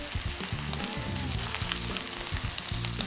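A butterflied pork chop pressed onto a hot pan, giving a loud, steady close sizzle that runs throughout under light background music.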